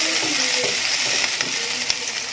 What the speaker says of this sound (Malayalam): ഞാൻ ഒരു ഫ്രൈ പാൻ വെച്ചിട്ടുണ്ട്, അതിലോട്ട് ഇഞ്ചി വെളുത്തുള്ളി ക്രഷ് ചെയ്തെടുത്തത്